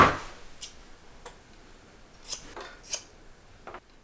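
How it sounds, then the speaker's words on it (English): Scissors snipping through scrap fabric, a handful of short, crisp cuts spaced irregularly across a quiet stretch with no talk. "I'm just going to cut those from my scrap fabric."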